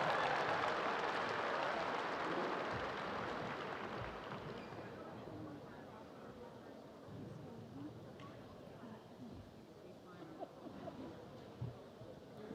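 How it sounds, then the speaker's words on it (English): Audience applause at a college gymnastics meet in an arena, moderately loud at first and gradually fading, with an announcer's voice and crowd noise underneath. "a nice round of applause for your top performers on vault"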